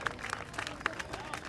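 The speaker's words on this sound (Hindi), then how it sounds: "जोरदार तालियों से अभिवादन होना चाहिए" An audience at an honouring ceremony during a rally applauds, a faint, distant wash of clapping with a few sharper claps poking through a noisy background.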